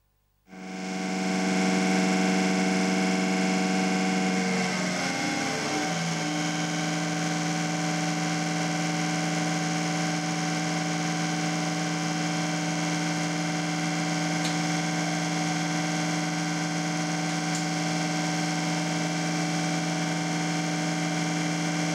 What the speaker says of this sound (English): With the test bench running at 1250 RPM, maximum fuel is adjusted by this screw.